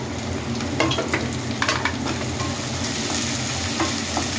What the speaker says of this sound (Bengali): দেখুন তেল একেবারে গরম হয়ে গেছে, পেঁয়াজগুলো দিয়ে দিলাম।